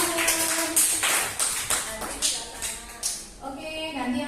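A small indoor group gives brief, uneven rounds of clapping for everyone in a classroom-style session. A voice talks over the claps.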